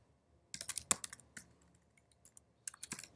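Bursts of computer keyboard typing, quick uneven clusters of keystrokes with short pauses between them, soft and close while a developer portal app form is filled in.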